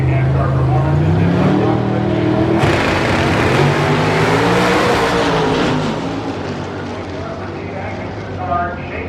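A 1988 Ford Thunderbird big-block drag car roars loudly as it launches and shakes its tires at a nostalgia drag race, the engine note rising and wavering under a steady crowd-and-track din.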